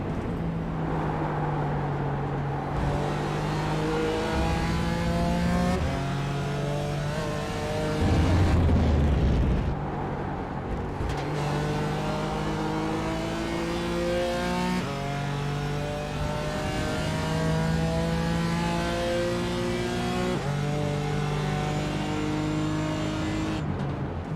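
GT4 race cars lap Donington Park in the iRacing sim, their engines droning loudly in several overlapping tones. Revs climb and drop through repeated gear changes as the cars run close together, with no voices.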